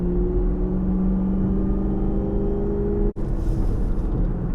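Gen6 Chevrolet Camaro with a supercharger cruising along, a steady engine drone and faint whine heard from inside the car, with one brief sharp dropout partway through.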